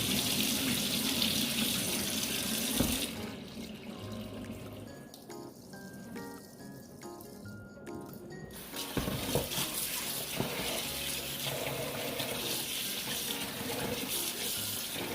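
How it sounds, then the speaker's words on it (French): Rice is rinsed in a sink under a running kitchen tap, with steady splashing water close by. The flow pauses briefly midway, then gushes again with grains and water sloshing in a bowl. "Pendant ce temps, on lave le riz."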